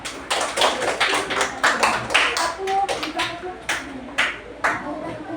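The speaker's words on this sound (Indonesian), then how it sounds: "jadi tepuk tangan untuk Hakim" Third-grade classroom students clap in quick, uneven bursts of hand claps, close and lively, with children's voices mixed in among the claps.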